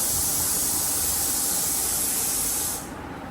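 A pressure cooker cooking meat lets out a loud, close, continuous rush of steam. The hiss cuts off sharply near the end, leaving a quieter background.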